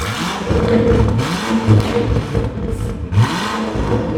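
A car's 4.4-litre twin-turbo V8 with a Quicksilver exhaust and downpipes revs up repeatedly, the loud, close engine note rising and falling in several bursts with no talking.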